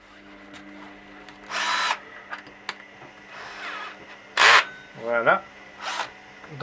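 A 32 mm hole saw on a drill bites into PVC pipe in a few short bursts of whining, grinding cutting separated by pauses, with brief clicks and handling noises between.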